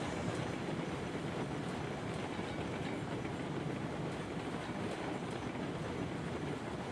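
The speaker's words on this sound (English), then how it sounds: "Slow this train down." Railroads Online video game train rolling steadily on rails, a continuous dense rumble with wheel clatter, loud and unbroken throughout with no voices.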